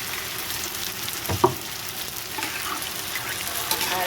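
Water poured into spice masala frying in a pan for a Bengali chorchori cooked with chili powder, ginger paste and turmeric gives a steady, close sizzling hiss, with one brief louder burst near the start.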